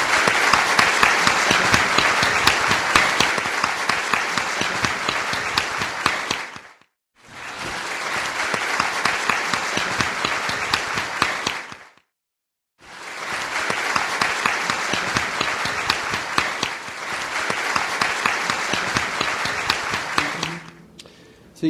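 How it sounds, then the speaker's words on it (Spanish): Audience applause for an interview guest: sustained dense clapping from a crowd, loud and close, broken by two short near-silent gaps before resuming. "yo lo que quiero es pedir un gran aplauso para esta mujer excepcional"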